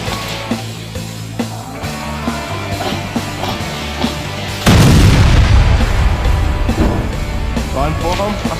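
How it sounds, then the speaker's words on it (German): An explosion goes off in a room during an indoor close-quarters airsoft game: a sudden loud, booming burst followed by a rumbling decay, after a stretch of tense background noise and clicks, with players talking. "Die ist in dem Raum explodiert."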